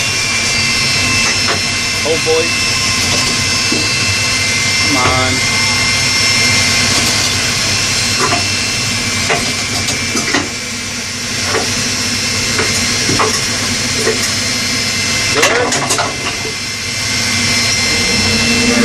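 Aircraft jet engine spooling up during an air start on the ground, a loud sustained whine and roar filling the scene throughout, with a person speaking briefly over it.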